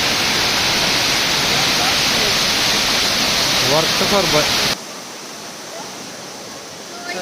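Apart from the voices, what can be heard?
Kothapalli waterfall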